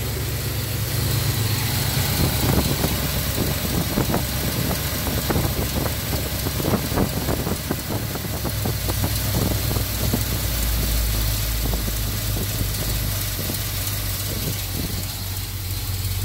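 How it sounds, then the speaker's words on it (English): A carbureted car engine with a Holley carburetor idles close by, its idle turned down, with a rough, uneven, choppy rhythm, steady and loud, with no voices. "Okay, so it's idling. It's a little choppy, but it's idling."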